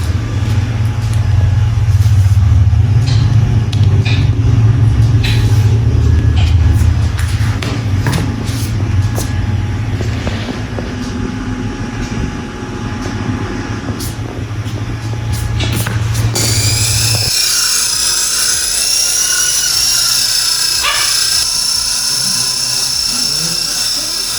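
Remote-controlled helicopter flying over a homemade helipad, a loud continuous whine and buzzing motor drone with rotor chop, holding steady before shifting to a higher-pitched whir partway through.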